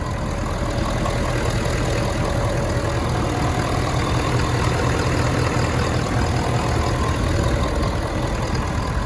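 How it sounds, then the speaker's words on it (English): A 2017 Ford F-350 Super Duty's 6.7-liter diesel V8 idles steadily, a low, even rumble with a faint knocking texture that holds unchanged throughout, close by. "That is a great diesel engine right there"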